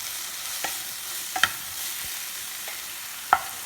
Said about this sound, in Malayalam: ഇത്ര ഇട്ടൊന്ന് ലൈറ്റായിട്ട് റോസ്റ്റ് ചെയ്യാം.